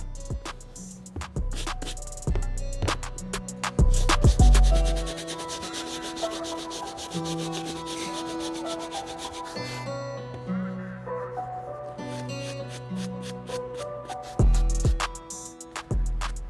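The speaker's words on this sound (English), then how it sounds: "So for this, we'll be using the medium bristle brush." Medium bristle brush scrubbing a delicate suede sneaker, repeated close rough rubbing strokes in uneven bursts with short pauses, alone with no voice.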